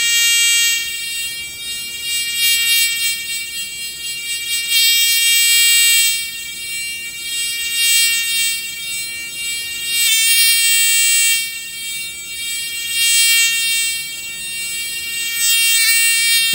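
A swinging electronic buzzer makes a loud, steady, shrill tone whose pitch rises and falls in a repeating wobble as it moves toward and away from the listener, with no voices.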